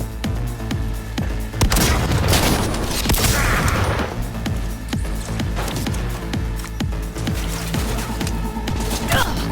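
Heavy gunfire erupts during a Cyberpunk 2077 firefight, loud rapid bursts and sharp repeated shots stacked with booming impacts, sustained throughout with a brief shouted voice mixed in.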